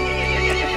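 Horse in Resident Evil Village rearing with a loud, close whinny, a strained harmonic neigh with hoof clatter underneath, brief and intense.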